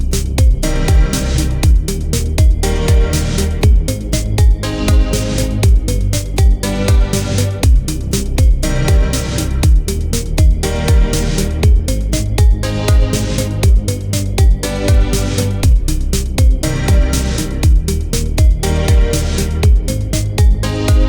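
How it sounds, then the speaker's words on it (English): A steady drum-machine beat with a punchy gated reverb snare cutting off abruptly on each backbeat, alongside gated piano chords, looping at a mid tempo with a loud, dense mix and no voices. "if you've got yourself a gated snare like this, you get some more interest in the beat"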